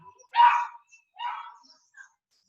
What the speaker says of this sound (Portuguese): o cachorrinho aqui tá animado, vizinho